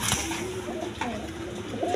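Domestic pigeons for sale coo softly in a few repeated, close calls against a quiet background, with faint voices nearby.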